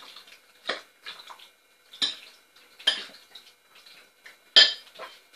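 Chicken pieces being mixed with two tablespoons of homemade masala in a bowl for chicken tikka skewers, a series of separate clinks and scrapes of a spoon against the dish with quiet gaps between them.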